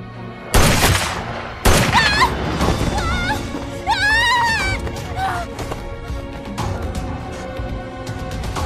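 Two sharp, loud gunshots crack out in quick succession in a Chinese revenge drama scene, followed by high, wavering screams and shouting voices.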